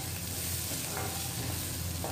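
Chopped onion sautés with ground cumin and coriander powder in a pan, giving a soft, steady sizzle with faint stirring scrapes throughout, low and continuous.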